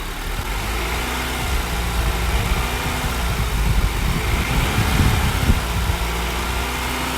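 A 2009 Acura TSX engine holds a steady 1000 RPM during an alternator replacement, a continuous low, even hum without change in pitch or loudness; no voices.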